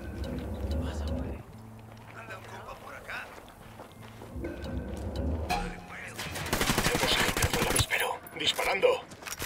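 Rapid gunfire bursts from a military shooter game set in Bolivia, crackling loudly over music and radio-style chatter, building into dense, continuous automatic fire toward the end.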